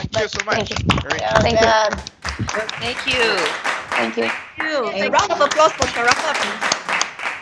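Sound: audience applause after a speech

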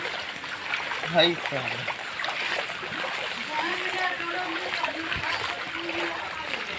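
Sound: floodwater flowing over a flooded road

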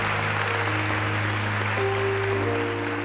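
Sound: congregation applauding the media ministry

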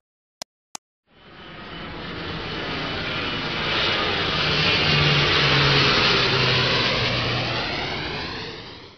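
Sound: airplane engine

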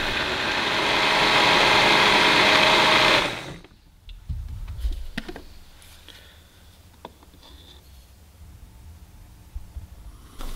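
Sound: blender blending soybeans and water

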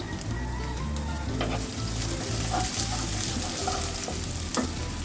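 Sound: chopped onion and green chili frying in oil

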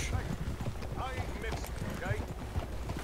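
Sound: Nokota horses' hooves in video game Red Dead Redemption 2

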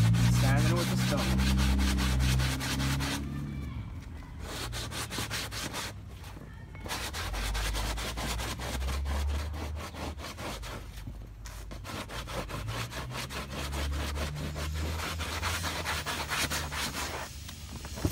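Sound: sanding leather with a stone

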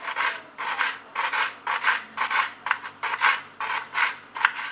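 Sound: cutting vanilla pastry dough into small pieces

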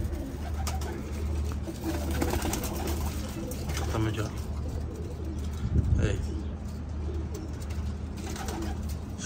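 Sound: pigeons cooing

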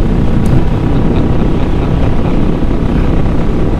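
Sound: Triumph Bobber Black motorcycle engine at full throttle

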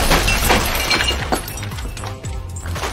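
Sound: light tube being smashed

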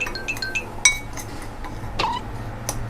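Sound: spoon stirring roasted rice powder into dipping sauce

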